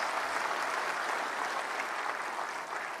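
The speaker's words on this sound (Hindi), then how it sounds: "सारी बालिकाएं हैं इसलिए जरा जोरदार तालियां हो जाएं।" Steady, even applause from a large audience at an award ceremony honouring prize-winning girls, sustained and moderately distant throughout.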